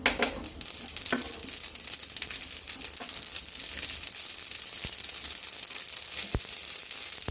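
Sesame seeds tossed into hot oil with fenugreek for a raw tomato chutney tempering, crackling and sizzling loudly up close, with a few sharp pan clicks and pops along the way.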